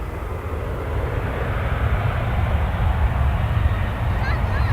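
Boeing 737-800 airliner at Dallas Fort Worth Airport on a Texas evening, a continuous broad engine roar that stays loud and even, swelling slightly toward the end, with a faint voice in the background.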